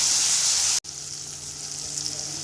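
Egg curry spices with chilli powder, cumin and coriander frying in a pan, a steady close sizzle broken once by a brief silent gap before it resumes more softly.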